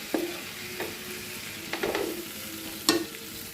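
Biryani masala gets stirred and mixed in a pot, a soft background sizzle broken by a few distinct clinks and scrapes of a spoon against metal, with no voices.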